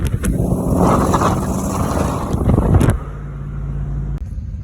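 An SN95 Ford Mustang engine, just back together after a clutch replacement, roars loudly and roughly near by, then drops to a low, steady idle hum.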